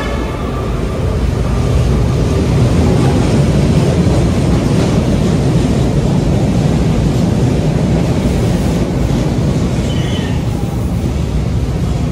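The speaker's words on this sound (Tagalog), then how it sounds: "Yan na yung tren." A steady, heavy rumble of a train passing close by in Manila, loud and continuous throughout with broadband rolling noise and no voices.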